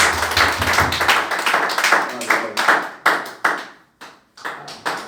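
A church congregation claps to acclaim God, a run of quick rhythmic claps that thins into a few scattered, separate claps toward the end.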